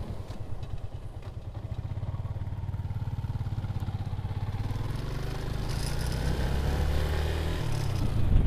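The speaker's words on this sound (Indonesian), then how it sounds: "Ini loh dua motor ini loh." Motorcycle engines idle and rumble close by, a steady mid-pitched engine drone that swells slightly louder toward the end, with no talking.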